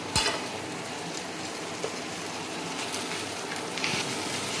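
Ginger garlic paste frying in a pan: a steady, close sizzle and crackle throughout, with a couple of small utensil clicks and no talk.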